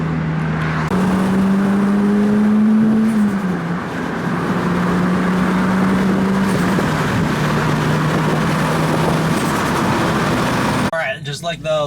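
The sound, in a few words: Turbo TRD Celica GT-S accelerating with new quieter exhaust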